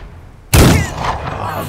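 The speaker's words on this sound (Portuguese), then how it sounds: "Parece um tiro de .50." A heavy gunshot like a .50 calibre round in a turn-based gangster strategy game: one sudden loud, close blast that trails off into a rumbling echo.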